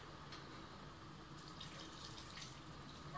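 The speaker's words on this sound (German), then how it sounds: "Gib ein bisschen Wasser dazu." Water poured into a pan of sauerkraut for Austrian Grammelknödel, a soft, steady trickle and splash running through the whole stretch, faint and close, with no talk.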